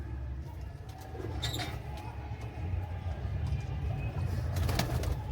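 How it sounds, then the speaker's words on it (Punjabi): Pigeons coo softly in a low, steady murmur over a constant background hum, with a few faint chirps and small clatters nearby. "ਬਾਕੀ ਨਾ ਕਬੂਤਰ ਦੇਖ ਲਓ ਬਾਈ ਸਾਰੇ ਐਕਟਿਵ ਆ"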